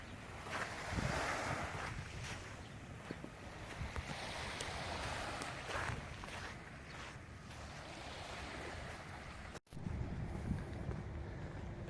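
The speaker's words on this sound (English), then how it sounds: "Penfield Beach, Fairfield." Surf washes ashore at Penfield Beach in Fairfield, Connecticut, a broad roar of breaking waves mixed with gusty wind buffeting the microphone, steady with swells and a brief dropout near the end.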